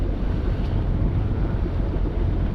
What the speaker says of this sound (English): the wind, which is blowing 9 knots at the moment